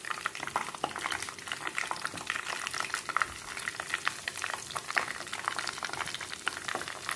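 Breaded tofu frying in hot cooking oil, a loud, steady sizzle with dense crackling and popping that runs the whole time without talk.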